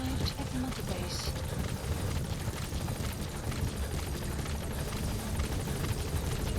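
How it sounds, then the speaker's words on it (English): Steady whirring rotor drone of a support helicopter arriving in the video game Metal Gear Solid V: The Phantom Pain, a continuous thrum heard throughout at moderate level with no talk. "Support helicopter has arrived."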